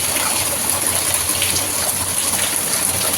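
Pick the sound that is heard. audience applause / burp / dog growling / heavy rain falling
heavy rain falling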